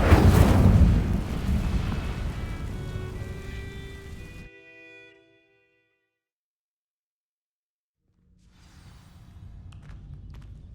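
An Incendio fire spell igniting dry vines in a wizard video game, a loud whooshing burst of flame that fades over several seconds into silence, followed by faint low ambient hum.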